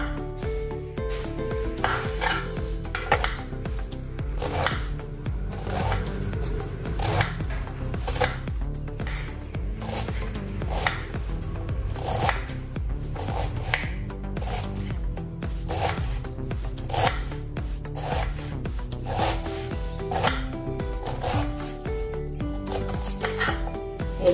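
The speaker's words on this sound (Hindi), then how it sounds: "तो मैंने 2 पत्ता गोभी ली है, इसको हम काटेंगे।" Cabbage being chopped with a knife on a board for a cabbage dal sabji, a steady run of crisp, evenly spaced cuts repeating close up for a long stretch, with no talking.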